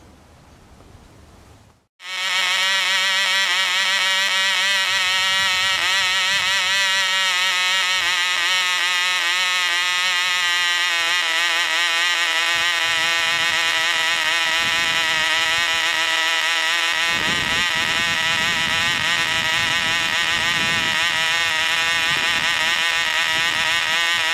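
A Cox .049 model airplane glow engine, freshly rebuilt and running rich, starts after a short pause and screams with a loud, steady high-pitched wail that wavers slightly throughout, close by and alone.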